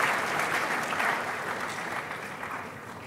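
Audience applause at a pharmacy faculty white coat ceremony, welcoming the provost: steady, dense clapping from a large crowd throughout, fairly loud and even, with no talk over it.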